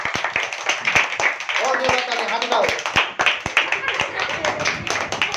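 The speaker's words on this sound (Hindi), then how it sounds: "तो इनके लिए जोरदार तालियां" Scattered hand claps from a small group cheer the winner of a golgappa eating challenge, sharp uneven slaps mixed with voices talking over them.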